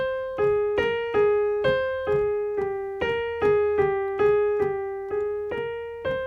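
The upper part of an Aeolian minor scale is played as roughly fourteen evenly spaced plucked notes close together in pitch, each with a sharp attack and short ringing decay, heard up close with no voices.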